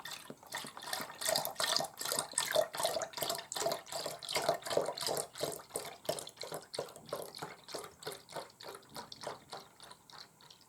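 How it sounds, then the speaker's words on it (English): Pouring 500 ml of soy milk into a container makes a steady rhythmic glugging, with regular pulses of liquid flowing for about ten seconds, close and fairly soft. "So I just pour 500 milliliters of soy milk."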